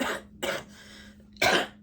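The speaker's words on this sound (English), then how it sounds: "I'm sorry that you're having to hear me cough" A person who is sick gives three close, fairly quiet coughs, two in quick succession and then another after a pause.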